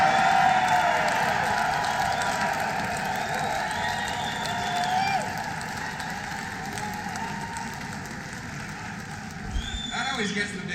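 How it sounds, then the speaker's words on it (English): A live audience at a comedy talk breaks into sustained applause and cheering, a broad wash of clapping that fills the room and slowly fades. A voice speaks over it. "That always gets the biggest applause."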